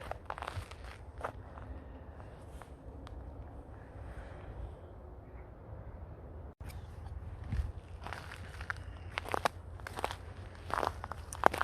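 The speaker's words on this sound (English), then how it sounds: "As you can hear underneath my feet, everything's crunchy." Footsteps crunch over frozen ground beside old railway lines, a steady series of close, crisp crackling steps with no talking.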